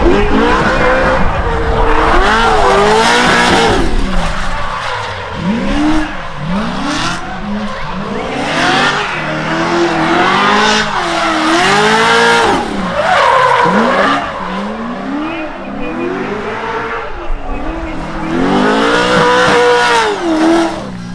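A 600HP C6 Corvette with a sequential gearbox drifts on a track in Ireland, its engine rising and falling in repeated revving sweeps while tires squeal and skid loudly and continuously.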